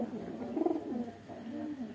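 Pigeons in a backyard loft, including racing pigeons, coo softly nearby in two or three low, rolling calls, fairly quiet and with no talking.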